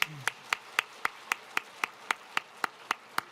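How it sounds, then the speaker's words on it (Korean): Sharp, evenly spaced rhythmic claps, about a dozen in steady time, ring out as a church congregation claps together during a Sunday service, with a brief voice at the very start. "우리 옆 사람 같이 인사하실 때 먼저 힘차게 박수만"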